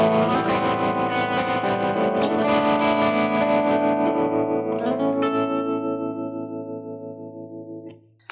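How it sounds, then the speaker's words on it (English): Electric guitar played through a tremolo pedal, a sustained chord with pulsing effected tone and slight distortion, loud and close, then fading out toward the end with no voices. "the cool thing too about the tremolo effect is it kind of does vibrato for you"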